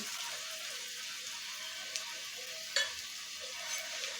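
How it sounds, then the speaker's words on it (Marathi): Crushed garlic sizzles in hot oil in a pan with a steady, bright hiss and one or two light utensil clicks. "तेल गरम झालं की याच्यामध्ये इथं मी सात ते आठ लसूण घेतले आहेत ते अशा प्रकारे ठेचून घेतले आहेत ते ॲड करायचे आहेत"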